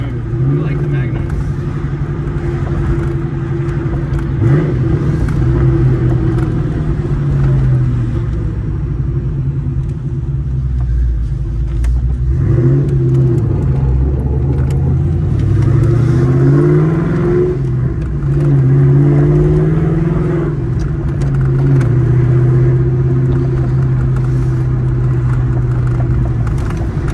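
A Magnum car being driven, its engine a steady close low drone that rises and falls as gears change, with pitch sweeps near the middle and later; voices seem faintly present beneath it.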